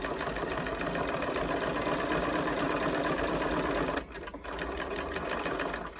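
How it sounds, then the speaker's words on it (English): A sewing machine with a buttonhole foot stitches a buttonhole, running steadily with a fast mechanical whir, pausing briefly near the end before resuming at the same even pace. "You've all got different ways of doing buttonholes on your sewing machine"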